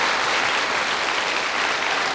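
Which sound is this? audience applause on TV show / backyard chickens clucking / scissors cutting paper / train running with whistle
audience applause on TV show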